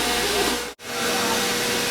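A hair dryer blows on fine hair in a loud, steady close whoosh that cuts out for an instant and then returns.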